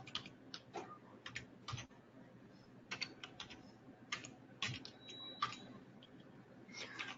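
Quiet keystrokes on a computer keyboard come in short bursts and scattered single clicks, faint and close, with no talking.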